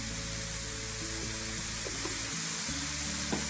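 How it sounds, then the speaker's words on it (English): Mushrooms sautéing in a pan with garlic powder and red chilli powder give a steady, soft sizzle, with a constant tonal hum and a few light stirring knocks running underneath. "Saute the mushroom for a minute"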